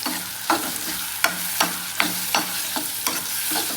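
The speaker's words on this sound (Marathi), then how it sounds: "चांगला ब्राऊन कलर येईपर्यंत कांद्याला भाजून घ्यायचं आपल्याला." Onions frying in a pan with a steady sizzle, stirred in a regular rhythm, each stroke giving a soft scraping thump, close up, with no voices.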